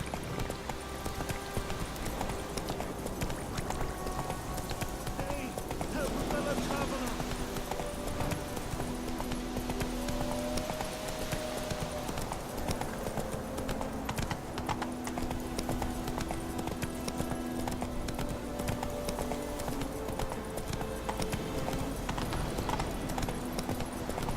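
Horse hooves gallop in a rapid, steady clip-clop in The Witcher 3 video game, running unbroken from start to end under faint game sounds, with an occasional whinny.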